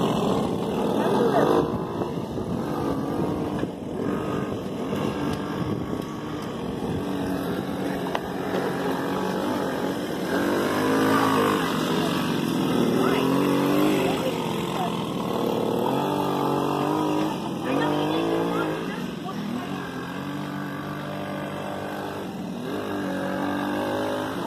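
Small engine of a 1986 four-wheeler ATV revving steadily while ridden around a back yard, loud and close throughout with shifting pitch, mixed with children's voices talking over it.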